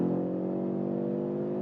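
Audi RS3 five-cylinder engine accelerating hard in sport mode, a steady, loud, close droning growl with strong layered harmonics that holds throughout, with no talk over it.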